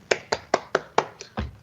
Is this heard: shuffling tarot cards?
no